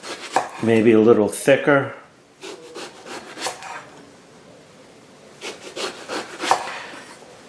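A knife slices a small eggplant into quarter-inch rounds on a wooden cutting board, giving a handful of close, crisp chopping thuds, partly under a person's talk.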